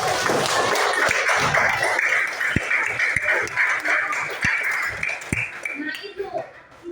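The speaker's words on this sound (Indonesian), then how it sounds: "Nah, tepuk tangan dulu." An elementary classroom claps hands together during a civics microteaching lesson, a broad patter of clapping with a few sharp, distinct slaps, mixed with children's chatter and a noisy room.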